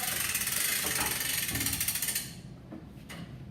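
Rapid rhythmic ratcheting clicks from a GTS machine's mechanism as its dump lever works against the lip of a stainless steel bin, loud and close for about two seconds before dropping to a quieter rattle and a couple of light knocks.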